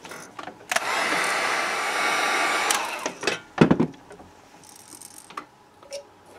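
Hot-air dryer blowing on freshly painted crankbait fishing lures, a loud steady whoosh for about two seconds followed by clicks and handling noises nearby.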